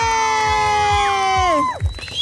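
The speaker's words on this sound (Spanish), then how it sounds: "aplauso y grito para mi zapote" A crowd, many of them children, cheers and shouts in one loud, sustained cry at a costume contest, dropping away near the end.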